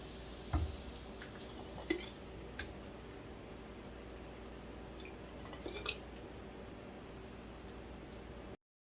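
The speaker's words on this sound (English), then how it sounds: "Just going to ladle them in there." Hot homemade tomato sauce is ladled into glass jars, giving a few soft drips and light clinks at scattered moments over a faint, steady background hiss.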